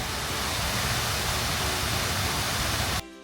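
Water from Chicago's Buckingham Fountain rushing and splashing in a dense, steady roar that cuts off abruptly near the end.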